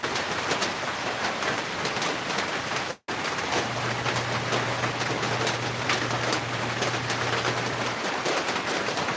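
Heavy rain pours steadily in a constant dense hiss, with a brief dropout near the start and a low hum joining partway through; no one speaks.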